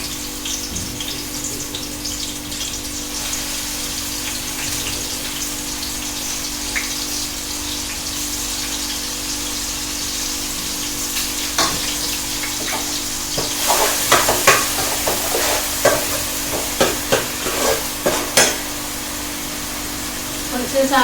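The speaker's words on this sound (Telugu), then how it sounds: "ఉల్లిపాయ ముక్కలు అయితే వేసేసుకోండి." Onion pieces frying in a pan for a Telugu-style fish curry, a steady close sizzle with crackling spatters that grow louder and busier toward the end as the onions are stirred.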